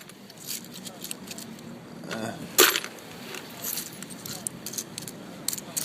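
Bulgarian stotinki coins clink and jingle in small bursts, with one sharper metallic clatter standing out over a low, busy background hum.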